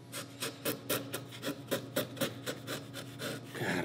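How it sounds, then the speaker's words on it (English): A sharp chisel pares butternut wood in a regular series of short, crisp scraping strokes, each a dry rasping shave, close and fairly quiet with no speech. "I love a sharp chisel on butternut."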